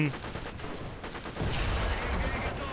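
Tank battle gunfire in War Thunder around a T-50 light tank: rapid crackling shots that swell into a denser, louder burst midway, close and sharp, with faint talking underneath.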